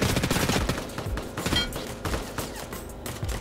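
Rapid gunfire from the video game Ring of Elysium, dense bursts of shots cracking loudly and continuously throughout, with a faint voice barely present underneath.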